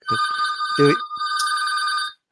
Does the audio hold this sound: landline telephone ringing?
yes